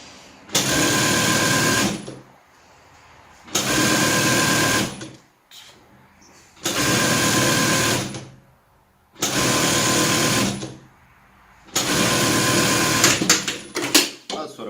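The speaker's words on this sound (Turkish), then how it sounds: "Daha sonra bir santim dikiş payıyla boydan boya vuruyoruz." A sewing machine stitches a long lace seam with a one-centimetre seam allowance, running in five loud, steady whirring bursts of about two seconds each, separated by short quiet pauses.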